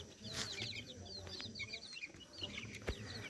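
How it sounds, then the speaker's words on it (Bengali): Improved-breed chickens cluck and call softly on a small home farm, faint scattered bird calls over a quiet background with no talk. "উন্নত জাতের মুরগি।"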